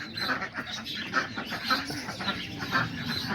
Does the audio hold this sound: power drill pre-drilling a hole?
no